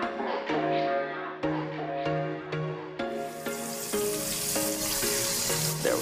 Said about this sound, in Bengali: এটাতে হচ্ছে ফ্রাইড রাইসের জন্য সবজি ভাজা